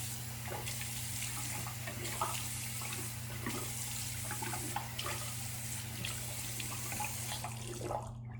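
Tap water runs steadily into a sink as a face is rinsed clean, a continuous close rush of water broken by soft splashes and drips from the hands.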